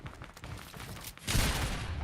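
Gunfire in the video game Fortnite: scattered, quieter shots at first, then a dense, loud burst of rapid fire that takes over the last second and continues to the end.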